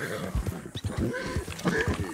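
A horse in Red Dead Redemption 2 making low snorting and nickering noises while eating, with short breathy bursts close by and soft chewing-like rustles between them.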